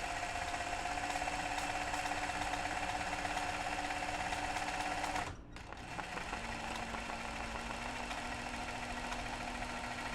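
A sewing machine running during free motion stitching hums and rattles steadily and close, with a brief dip midway before resuming at an even pace.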